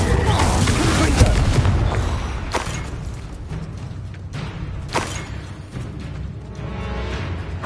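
Confringo fire spell blasts in a Harry Potter video game, booming explosions over dense battle noise with other spells and effects, a loud burst near the start and sharper impacts later.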